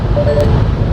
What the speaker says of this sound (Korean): 바람 소리가 제법 크죠.